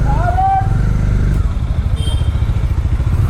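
A group ride of motorcycles including a Bajaj Dominar on a Bengaluru road, loud steady engine rumble with wind buffeting close to the rider, a brief horn-like tone early on.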